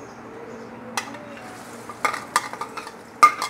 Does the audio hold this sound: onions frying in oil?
yes